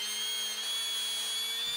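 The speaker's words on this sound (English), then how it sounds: "drill out the hole into the offset" A power drill bores a hole into wood for a drying rack rail, giving off a short, steady high motor whine that holds its pitch, then the low hum cuts out near the end.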